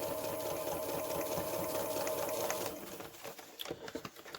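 A sewing machine stitches a straight seam on a quilt backing with a steady, close motor whir that stops partway, followed by faint handling clicks.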